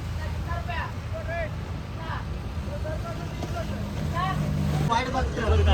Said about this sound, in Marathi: आता या बोटीनं मी रेड करणार आहे.